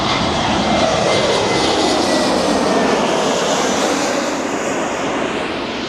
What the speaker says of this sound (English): Planes fly by.